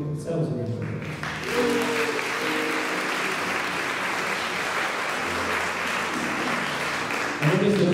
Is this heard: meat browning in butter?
no